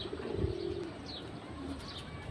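Pigeons coo softly on a rooftop garden, a low murmuring call near the start and again around the middle, with faint higher chirps over a steady outdoor background and no talking.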